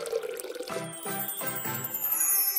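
Water poured into a doll gurgles and tinkles with a bright rising ring as the hollow body fills, close and clear, with a few bubbly pulses and no talk.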